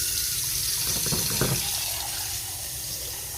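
Running water pours steadily into a milk pot, a continuous splashing gush that rises briefly in the middle, then settles into a softer trickle.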